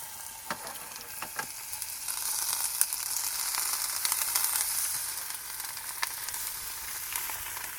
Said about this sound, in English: I'll just keep frying these guys until they're golden brown on one side and then flip them over